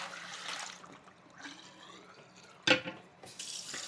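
Warm water runs from a tap into a sink at low level, with a brief louder splash partway through and faint handling noise around it.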